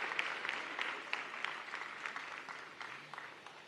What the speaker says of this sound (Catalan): Un aplaudiment també pel Departament de Cultura